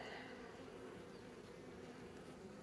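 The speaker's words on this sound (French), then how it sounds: "Ah, j'ai une abeille dans la main là." Honeybees buzz in a steady, dense drone close by as a beehive is opened and frames handled during queen marking, the hum continuous and unbroken with no talk.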